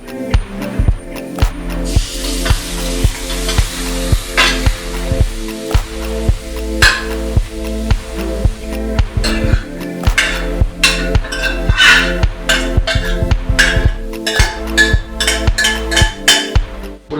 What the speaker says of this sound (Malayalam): ഇറച്ചി നമ്മൾ നമ്മുടെ കടുക് പൊട്ടിച്ചതിനകത്തേക്ക് ഇട്ടിരിക്കുകയാണ്